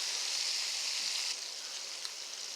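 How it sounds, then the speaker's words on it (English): Boiled goat meat frying in a pan until crisp, a steady close hiss and crackle of sizzling fat that eases slightly halfway through, with no voices. "You just want to give it this crisp, the crunch texture by frying it now."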